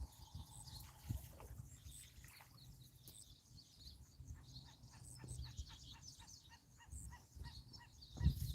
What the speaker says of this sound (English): Bird up there sound like he's saying, hey, hey, hey, hey, hey, hey, hey, hey, hey, hey.